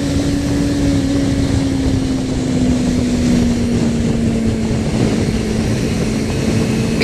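A 250 engine revs at about 10,000 RPM. A loud, steady high-pitched whine holds close and constant the whole way, with no talking over it.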